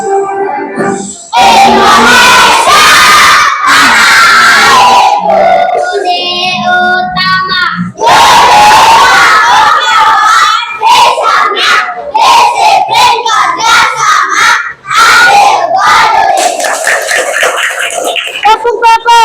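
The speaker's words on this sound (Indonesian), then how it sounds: "Yuk, sama-sama kita menyanyikan lagu Indonesia Raya." A group of schoolchildren sings the Indonesia Raya national anthem together in a classroom, their voices loud, close and continuous throughout, with the sustained tones of shared singing.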